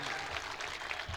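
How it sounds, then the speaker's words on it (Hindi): A crowd at a mushaira poetry gathering applauds in a brief, dense burst of clapping. "पूरा पिंडाल एक मर्तबा तालियां बजा के मुझे इजाजत दे दे"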